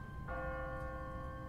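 In The Walking Dead video game, a church bell strikes once in a quiet city and its tone rings on steadily, fairly faint over low ambient rumble, with no talking.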